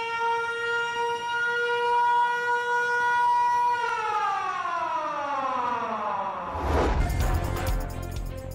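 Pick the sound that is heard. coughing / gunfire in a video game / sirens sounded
sirens sounded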